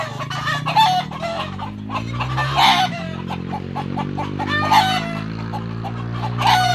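Chickens cluck steadily on a farm while a rooster crows loudly several times, the crows recurring at intervals over the constant flock noise.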